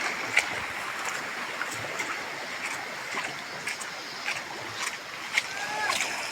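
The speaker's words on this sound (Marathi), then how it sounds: "हा बघा तर वरतून पाणी इथं येतं" Water flowing down from higher ground on a farm in the Konkan region: a soft, continuous rushing and trickle, with light splashy ticks scattered throughout.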